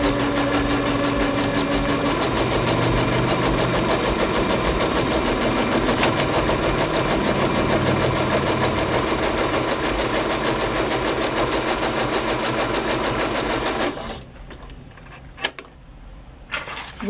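A sewing machine runs steadily through a zigzag stitch for about fourteen seconds, loud and close with a fast mechanical rhythm, then stops, leaving a quiet room with a faint click.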